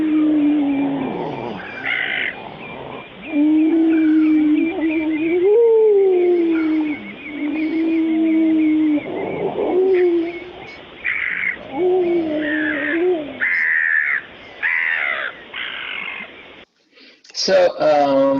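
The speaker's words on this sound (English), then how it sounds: "this is jungle noise. So some of them are like bird calls and chirps." Jungle ambience thick with bird calls and chirps, a steady dense chorus of overlapping warbling and sliding calls, fairly loud and continuous, ending with a short burst of higher chirping after a brief near-silent gap.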